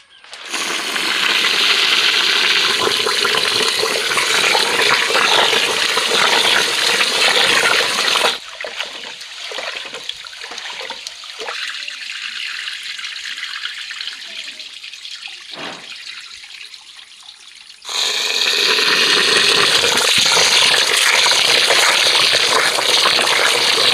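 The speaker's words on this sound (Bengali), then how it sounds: "এবার আমি চালটা ধুয়ে নেব" Rice is washed under a running tap, with a loud steady gush of water into a vessel, a quieter stretch of sloshing and swirling grains in the middle, then the full stream again.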